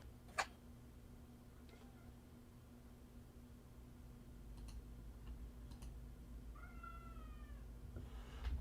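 A domestic cat meows a few times in a quiet indoor room, short rising-falling calls toward the end, fairly close, over a steady low hum with faint ticking.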